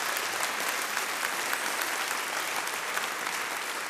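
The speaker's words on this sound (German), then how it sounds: "Riesigen Applaus" Continuous, even applause from an audience at a Swiss folk music evening, a dense steady wash of many hands clapping at moderate distance without breaks.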